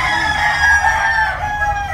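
An imported Spangle bloodline gamefowl rooster crows loudly and close by in one sustained, wavering call lasting about two seconds, with no talking over it.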